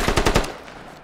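Machine gun fire in the tactical shooter game Squad: a short, loud burst of about five rapid shots in the first half second, then a fading tail with no talk.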